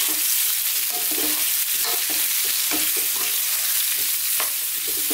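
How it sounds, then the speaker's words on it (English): Green banana pieces fry in a pan over lively heat, a constant bright sizzle broken by repeated scraping stirs every half second or so, close and loud with no talking. "We're now going to throw these around on a fairly lively heat for about 4 minutes, stirring all the time."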